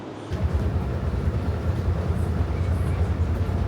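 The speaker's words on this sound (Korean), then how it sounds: "이게 아마 마지막 호선이 될 것 같은데 인천공항으로 가는 공항철도 시작해 보도록 하겠습니다" An Incheon Airport Railroad train running toward Incheon Airport, heard from inside as a loud, steady low rumble and rolling drone that continues throughout.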